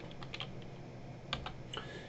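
Typing on a computer keyboard while entering a venue address into a settings field: a run of soft, quick key clicks in irregular bursts, fairly quiet and close, over a steady low background hum, with no talking.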